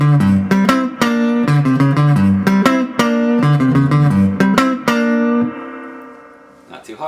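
Electric guitar playing double stop bends on the 2nd and 3rd strings in a blues lick, a series of clear plucked notes with bent pitches, then a final chord ringing out and fading.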